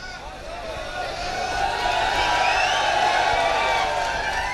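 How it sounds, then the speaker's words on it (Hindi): Audience at a Hindi poetry recital breaking into loud clapping and cheering, a dense crowd roar that swells after the first second and stays full, with whoops mixed into the applause. "चलिए एक बार जोरदार तालियां बजाइए"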